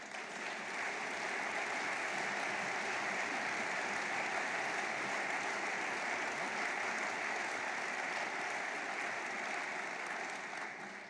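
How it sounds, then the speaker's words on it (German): A hall audience applauds steadily for over ten seconds during a mayor's New Year's speech, a dense, even wash of many hands clapping at moderate distance with no pauses and no voices on top. "Ich finde, da passt ein Applaus."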